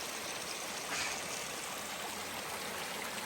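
A flowing stream along a hiking trail on the Pacific Crest Trail, with a steady, continuous rush and trickle of water close by, filling the whole moment without any talk.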